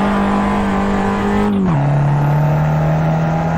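Fiat 500 Abarth engine in a racing video game, droning at a steady high pitch, then dropping sharply on a gear change and settling into a lower sustained hum, loud and close.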